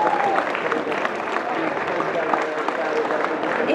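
Audience applause at an anime roundtable panel at a summer fan convention: a steady, dense wash of many hands clapping with crowd noise, continuous and fairly loud throughout.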